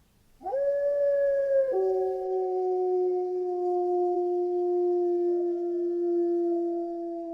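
A wolf lets out a single long howl, rising quickly, then sliding down slightly and holding a steady, clear tone for several seconds, loud and alone in silence.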